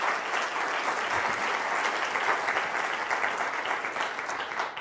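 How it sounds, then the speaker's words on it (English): An audience at a learning-at-scale talk gives a sustained round of applause, dense and even clapping from many hands at a moderate distance. "Could you please stand for a round of applause?"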